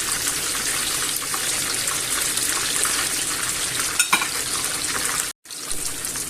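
Meatballs searing in a hot pan for a homemade stew give a constant loud, watery sizzle that crackles close by and continuously, broken by a brief clatter and one abrupt dropout near the end.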